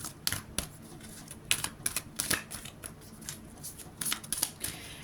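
Tarot cards being drawn and shuffled from a deck, with a run of crisp, close snaps, flicks and papery riffles at an irregular pace, lightly scattered and unaccompanied by talk.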